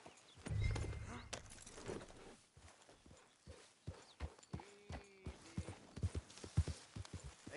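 Horse hooves clip-clop on a trail in the video game Red Dead Redemption 2, a series of distinct irregular thuds at a walking pace, with a faint tonal sound and a few soft knocks mixed in.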